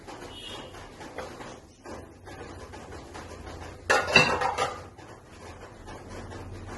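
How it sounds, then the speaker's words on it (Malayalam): A short rattling pour of rice into a pot of boiling water, a burst of clatter and hiss lasting about a second amid quiet kitchen sounds. "നമുക്കിതിലേക്ക് അരിയിട്ട് വെക്കാം."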